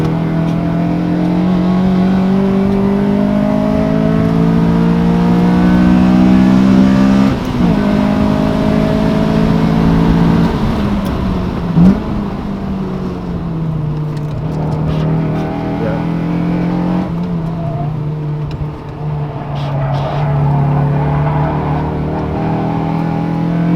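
Honda Civic Si on a warm-up lap around a race track, its engine droning loud and steady from inside the car, pitch dipping and climbing as the driver shifts and lifts through corners.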